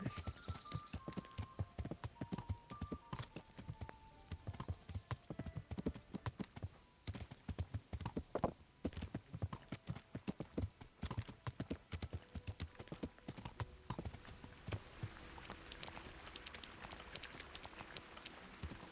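Steady clip-clop of horse hooves at a trotting pace in the video game Kingdom Come: Deliverance, continuous and rhythmic, fairly faint, with a brief neigh among the hoofbeats.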